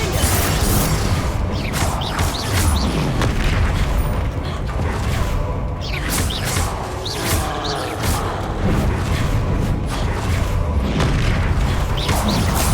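Spell blasts in Hogwarts Legacy during a duel, loud booming impacts and crashing bursts one after another for nearly thirteen seconds over a continuous rumbling combat bed, with sharp whooshes scattered throughout.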